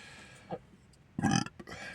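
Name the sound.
man burping after drinking sparkling water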